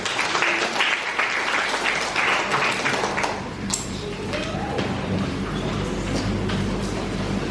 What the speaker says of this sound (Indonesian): Kita beri tepuk tangan untuk Tuhan Yesus.